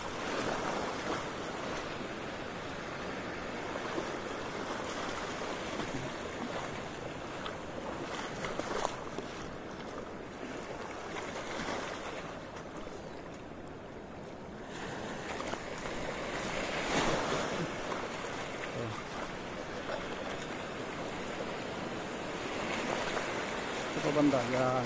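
Ocean surf rolls and washes against the shore during shore casting for fish on Palawan, a constant roar of waves and wind with people talking over it.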